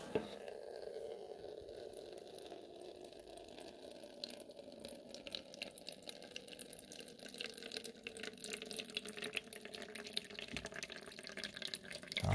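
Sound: water running out of a home radiator being drained

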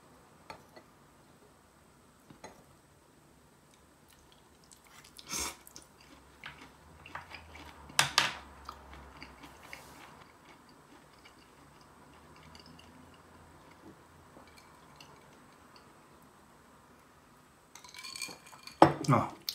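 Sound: eating mitsuba namul with sesame oil

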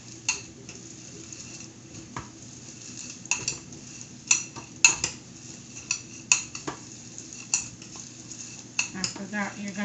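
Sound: stirring melted chocolate for peanut clusters

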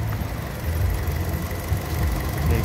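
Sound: Fiat 500C 1.2 8V engine idling quietly

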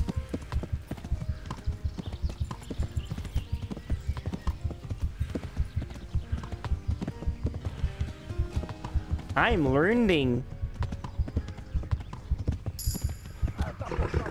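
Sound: horse hooves galloping, from video game Kingdom Come: Deliverance

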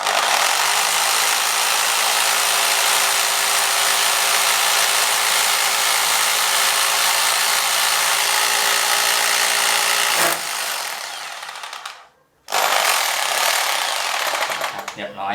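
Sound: rotary drill with diamond bit drilling tile

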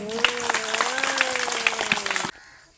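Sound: audience clapping at a children's day event

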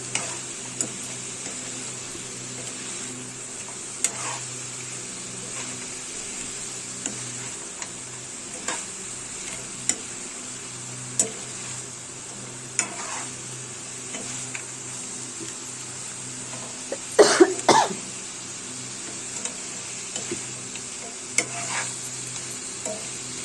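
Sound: stirring prawn curry with masala in a pan

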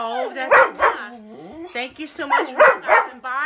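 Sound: dog barking

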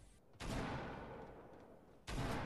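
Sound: gunshots in the video game Fortnite

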